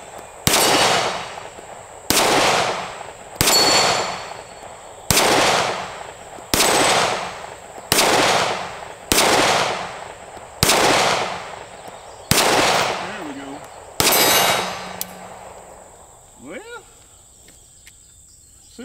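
Keltec P15 pistol firing at an outdoor shooting range: about ten loud, sharp single shots at a fairly even pace, each with a short ringing echo, followed by quiet mechanical handling sounds.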